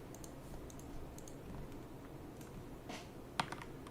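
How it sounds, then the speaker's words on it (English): Loud computer keyboard typing in clicks and short bursts, some louder sharp keystrokes near the end, over low background noise with no talking. "We're all ignoring the loud keyboard noises."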